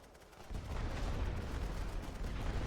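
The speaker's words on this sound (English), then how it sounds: "Let's get some helpful artillery salvo here." An artillery salvo in the First World War strategy game The Great War: Western Front, a dense continuous rumble of distant guns that swells in after a quiet half-second and holds steady, low and moderately loud.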